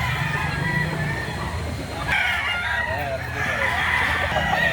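Roosters crow over and over amid clucking fowl at a busy chicken market in Lipa City, Batangas, loud and close, with crowd noise and faint voices in the background.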